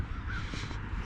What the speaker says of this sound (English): I hear there's some birds flying around in the back.